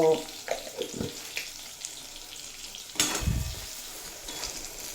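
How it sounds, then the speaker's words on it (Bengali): Eggplant slices frying in a pan with turmeric and salt give a steady close sizzle, with a louder burst of spitting oil partway through and some faint clinks. "এই বেগুনগুলো আমি পরিমাণ মতো হলুদের গুঁড়ো আর স্বাদ মতো লবণ দিয়ে ভেজে নেব"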